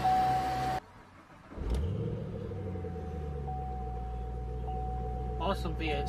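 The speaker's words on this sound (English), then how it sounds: "Awesome V8 sound." A V8 car engine rumbles at a deep, steady idle close by after an abrupt cut, with a faint brief rev swell partway through.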